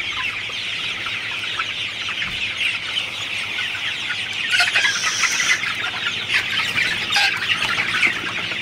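Sonali super hybrid chickens, 45 days old, cluck and squawk continuously, a dense crowd of birds close by with occasional louder calls rising above the flock.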